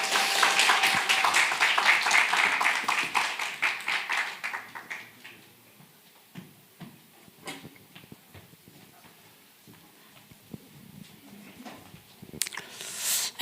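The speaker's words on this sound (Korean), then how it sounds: "박수로 환영합니다" A church ministers' camp gathering applauds to welcome a speaker: a burst of many hands clapping together, strong at the start and tapering off after a few seconds into quieter room sounds and scattered knocks.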